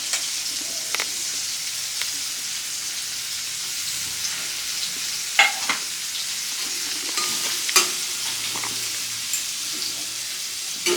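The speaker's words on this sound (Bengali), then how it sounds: "এটাকেও লাল লাল করে ভেজে নেব।" Vegetables such as bitter gourd, eggplant and potato fry and sizzle steadily in a pan, with occasional clinks and scrapes of stirring standing out over the constant hiss.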